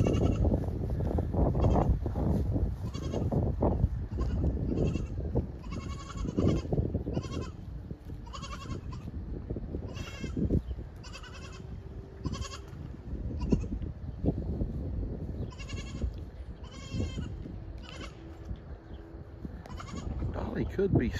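Several goats bleat repeatedly outdoors, calls coming in short bursts at varying distances, with people talking over and between them.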